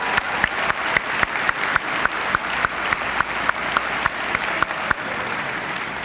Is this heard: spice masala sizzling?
no